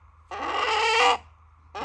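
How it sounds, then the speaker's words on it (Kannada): A native country chicken (nati koli) gives a loud, close, drawn-out clucking squawk, then falls quiet before a second call starts. No one speaks. "ಇದೇ ನಿಜವಾಗ್ಲೂ ನಾಟಿ ಕೋಳಿ"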